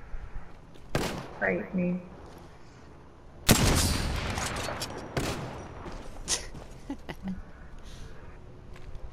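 Video game gunfire, a few sharp loud shots and bursts with a big blast near the middle, scattered among quieter game noise and brief talking from players.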